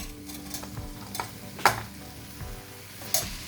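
Four tomatoes sauté in a pan for lamb biryani, with a soft sizzle under spatula stirring and two sharp scraping clacks against the pan, close and moderately quiet.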